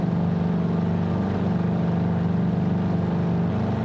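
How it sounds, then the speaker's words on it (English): Ultralight plane's Boxer twin engine in Flight Simulator 2020, a steady loud droning hum holding an even pitch throughout, close and continuous with no voices. "I have that ultralight, and it is powered by a Boxer twin engine"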